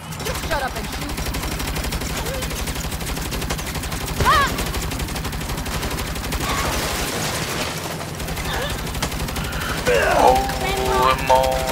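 Sustained turret machine gun fire in the Saints Row reboot video game, a steady rattling stream that runs the whole time under music, game effects and talking voices.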